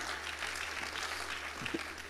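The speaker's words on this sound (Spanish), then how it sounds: "Denle un aplauso a Jesucristo, hermano" Audience applause at a Spanish-language deliverance seminar by Cristo Libera Internacional in Salem, Oregon, a steady wash of clapping that runs the full length with a low hum beneath and no voices over it.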